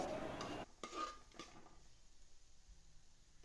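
Chicken curry masala being stirred in an uruli pot, a few scraping clatters of the spoon against the vessel in the first second and a half, then only faint quiet background.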